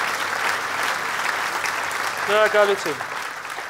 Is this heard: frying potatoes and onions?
no